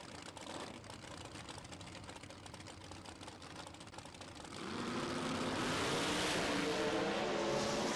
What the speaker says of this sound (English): Nitrous backfire for Lexi